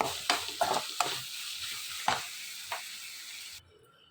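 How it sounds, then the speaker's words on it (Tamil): A spoon stirs tomato masala with salt in a pan. It gives a handful of scraping, clinking strokes over a soft sizzle, then stops abruptly. "உப்பு சேர்த்து ஒரு கலர் கிளறி விட்டுட்டு அப்படியே நிறுத்தி ஆற வச்சிடலாம்"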